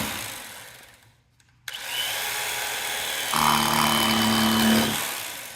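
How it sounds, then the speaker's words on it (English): An electric knife cuts through a rack of cooked pork ribs with a loud, steady motor whine that starts abruptly and runs for several seconds, rising slightly as the blade bites into the meat. "I am going to cut these up using my electric knife. This is going to be loud."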